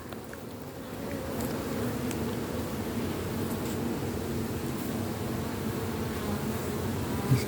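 A hornet circles over the brood comb of a beehive during an inspection of the hive's last super, its buzz a steady close drone that holds through the whole stretch without any voices.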